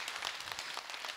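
An audience at a Buddhist monk's question-and-answer talk breaks into brief applause, a dense patter of many hands clapping at moderate volume.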